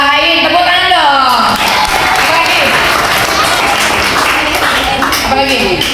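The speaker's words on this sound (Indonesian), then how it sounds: "Tepuk tangan dong." Audience clapping at an Islamic religious study gathering in Indonesia, a steady broadband wash of hands that swells after a spoken phrase and continues loudly, with a voice talking over the start.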